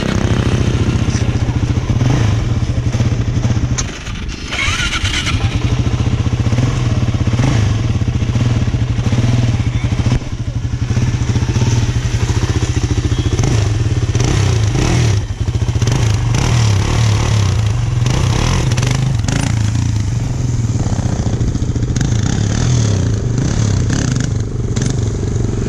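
A motorcycle engine runs loud and close throughout wheelie practice, a steady low drone with rises in revs and some rattling clatter.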